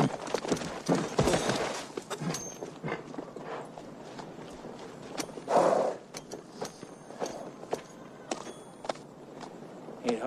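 Hooves of a ridden horse clip-clop in an uneven walking rhythm with soft thuds and tack rattles, fairly close and steady throughout, with no talking.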